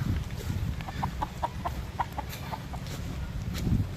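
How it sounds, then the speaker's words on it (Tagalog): Gamecocks kept as fighting roosters on Samal Island cluck in a quick run of short calls at middle distance, over a low background rumble outdoors. "May mga alagang panabong dito."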